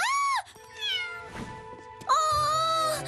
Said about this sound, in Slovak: To je malé mačiatko.